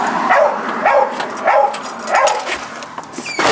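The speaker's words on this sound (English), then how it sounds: "Damn dog." A dog near a vegetable garden barks in a quick series of four or five loud, close yelping barks, with short gaps between them.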